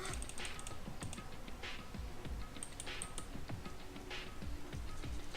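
Steady typing on a computer keyboard, quick irregular key clicks continuing throughout at close range with no voices.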